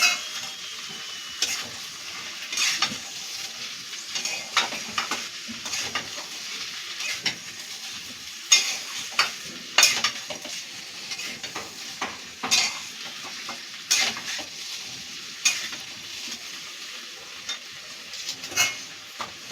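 Ginger-cumin paste being stirred into a potato curry in a pan, a string of scraping spoon strokes over a soft sizzle, close and fairly loud, with no talk.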